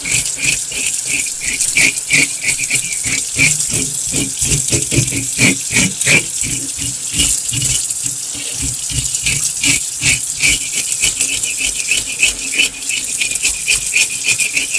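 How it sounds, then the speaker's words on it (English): A pickerel is scaled in a kitchen sink under running tap water: steady splashing flow with rapid, rhythmic scraping strokes rattling over it, loud and close. "So you just want to scale the fish off real easy in the sink with the water running."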